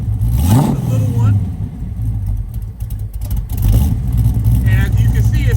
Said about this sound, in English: Nice little growl. You hear that little rumble?